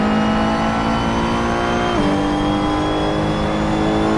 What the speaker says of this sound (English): The engine sounds good.